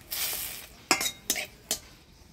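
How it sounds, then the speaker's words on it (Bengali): Cardamom, bay leaves and dried chillies hit hot oil in a pan, giving a soft hiss followed by three quick crackling bursts, faint and close. "ফোড়নে দিব এলাচ, তেজপাতা, শুকনো লঙ্কা"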